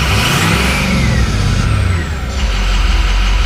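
A 2006 Ford F250 pickup with a 6.0 Powerstroke diesel engine revs loudly and close by, a steady low rumble that rises and dips through the rev with no talk.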